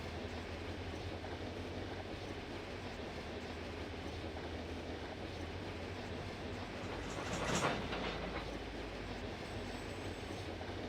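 Freight train in the Run 8 train simulator game, a continuous rumbling rolling noise of rail cars with a brief louder clanking surge partway through as the slack runs out, steady and moderately distant, no talk.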